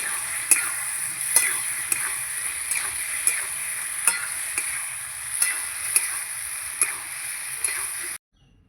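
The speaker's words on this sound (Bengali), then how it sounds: "এবার আমি ভালো করে কষাবো" Masala cooked down with water in a pan while being stirred for a light katla fish curry with kohlrabi, giving a steady loud sizzle with sharp regular spatula scrapes about every second.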